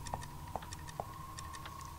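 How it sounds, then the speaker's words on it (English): An odd-sounding clock ticks in the video game Fran Bow: a steady, quiet tick-tock at a regular pace over a low background hum, with no voices. "Oh, this clock sounds odd."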